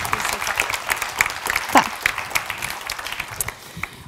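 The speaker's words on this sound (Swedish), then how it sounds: "Och en stor applåd för Marie." Audience at a school panel event claps in sustained applause, a dense crackle of many hands that swells briefly near the middle and then carries on steadily.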